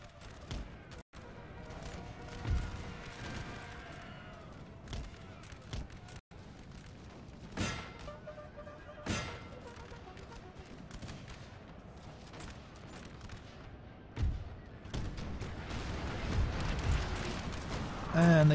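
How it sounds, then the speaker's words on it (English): Cannon artillery fire booms repeatedly in Napoleon: Total War, sharp loud blasts spaced irregularly amid a busy battlefield din of musketry and crowd noise, with a voice talking over parts of it. "And the cannons are wreaking havoc."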